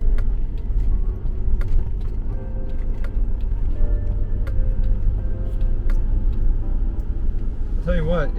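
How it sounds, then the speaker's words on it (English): A vehicle rolls along a trail in trail mode near Gunnison, giving a continuous low engine and tyre rumble with occasional knocks and rattles while people talk over it. "I put this in trail mode to just like let it drive in trail to see how it would do"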